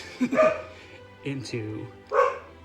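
Dog barking in the background at home: a few sharp barks and yips in short bursts, under and between a person speaking.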